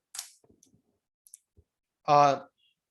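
Scattered light clicks of typing on a computer keyboard while entering spreadsheet data, a few sparse taps followed by a short voiced sound near the end, close and fairly quiet.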